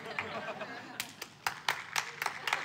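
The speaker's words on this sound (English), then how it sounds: "It's a half a clap." Scattered, sparse claps from a crowd, a few loose hand claps spaced unevenly over a quiet murmur.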